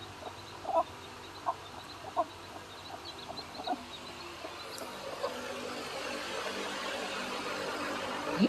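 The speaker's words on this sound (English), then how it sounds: "So we have some of our chickens." Chickens clucking in short scattered bursts at moderate distance over a soft outdoor background, with no talking.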